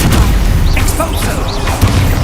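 In the Hogwarts Legacy video game, an Expulso explosion spell goes off as a loud, close boom with crashing debris, heard under a player's voice and continuous game background sound.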